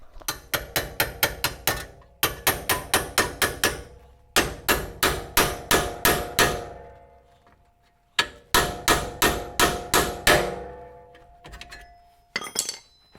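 A hammer pounds a front end part on a Mercedes 240D in rapid bursts of about six to eight blows each, with close, ringing metallic clanks separated by short pauses.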